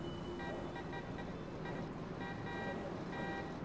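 A car horn honks in the racing game The Crew 2, sounding from a Crown Vic-style car. Short, repeated tonal bursts come in quietly over a low engine and road hum.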